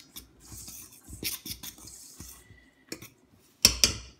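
Dried cherries and sliced almonds are stirred into scone dough in a mixing bowl, giving soft, brief scrapes and taps, then two sharp clinks near the end, close and quiet.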